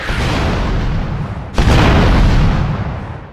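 Rocket launcher blasts in the Roblox Fortnite Simulator video game: two loud, booming explosions in quick succession, each a heavy, roaring burst that rumbles on before fading.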